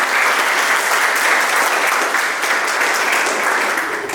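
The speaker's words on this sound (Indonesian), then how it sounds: "kita beri aplaus dulu." Steady, dense audience applause in a lecture setting for a medical teaching session, continuous and loud for about four seconds with no talking over it.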